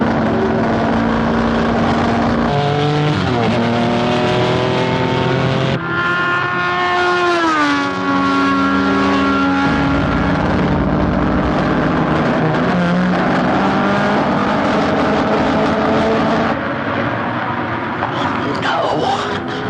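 Race cars lapping a motor-racing circuit, their loud, continuous engine whine rising and falling in pitch as cars sweep past, one after another, for the whole stretch.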